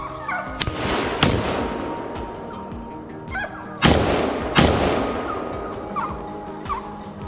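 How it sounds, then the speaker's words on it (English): Gunshots during a boar hunt in forest country, a handful of sharp reports at irregular intervals with two loud close blasts midway, each trailing off into echoing reverberation among the trees. "More shots echoed through the forest, signaling that this land had become a little safer once again."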